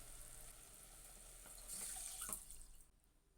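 Water poured from a cup into soaked rice for soya pulao, a steady faint splashing trickle that swells briefly before tapering off, with no talking.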